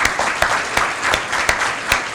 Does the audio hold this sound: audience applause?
yes